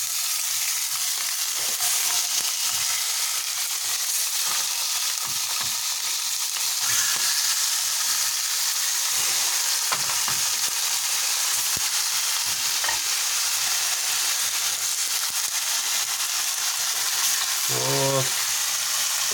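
Salted fish sizzles steadily in sunflower oil in a frying pan, a continuous close, loud crackling fry with occasional stirring scrapes.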